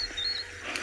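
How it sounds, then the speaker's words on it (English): A brief, fairly loud burst of a lion's roar on a sunrise safari at Tswalu, a rough low rumble cut short, with faint birdsong in the open-air background. "that roar is very distinct and very important."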